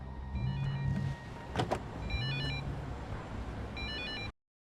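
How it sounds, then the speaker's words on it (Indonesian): A mobile phone in a van in a film rings with bursts of bright electronic tones, first around one second in and again near the end, over low rumbling street noise. "Tak lama kemudian ponsel itu berdering."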